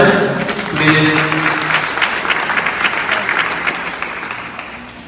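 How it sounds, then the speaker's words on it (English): An audience at a graduation ceremony applauding, dense loud clapping from a crowd that swells early and slowly fades, with a voice briefly heard over it. "Please put your hands together for her one more time."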